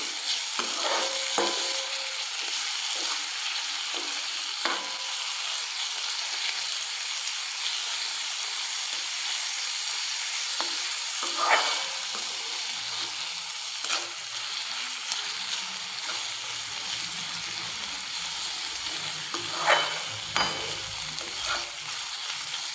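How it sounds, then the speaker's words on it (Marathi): Finely chopped tomato is stirred into browned onions in a frying pan for a fenugreek thecha, producing a constant gentle sizzle and hiss punctuated by occasional spatula scrapes and clinks. "आता आपण यात टाकणार आहोत तो बारीक चिरून घेतलेला टमाटा. याला आपण आता छान असं मिक्स करून घेणार आहोत."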